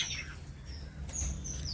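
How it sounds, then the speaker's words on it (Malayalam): Pet birds in an aviary give faint, high chirps and tweets over a low background rumble, with short calls scattered throughout and slightly stronger near the end. "കിളികളൊക്കെ ഇപ്പോൾ അങ്ങനെ അങ്ങോട്ടും ഇങ്ങോട്ടൊക്കെ കിടന്ന് പറക്കണം."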